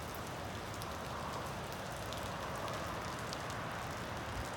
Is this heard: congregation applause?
no